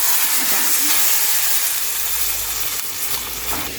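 Steady broadband sizzling and hissing of hot ghee tempering poured over kadhi curry, continuous and fairly loud with no talking.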